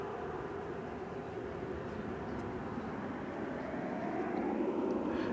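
Steady, broad roar of a Cargolux cargo airplane at DFW Airport, a continuous distant engine rumble holding level throughout with no talk.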